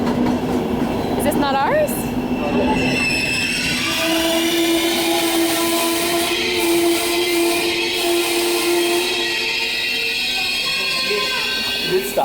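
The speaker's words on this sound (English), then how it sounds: "Is this not our train?" A passenger train arriving at a Cinque Terre station in Italy, with squealing brakes, rumbling wheels and a tonal whine running loudly throughout, while people nearby speak briefly over it.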